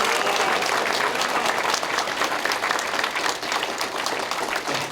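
A church congregation at Yoido Full Gospel Church applauds the Minister of Employment and Labor, with dense, steady clapping from a large crowd filling the space and holding constant throughout.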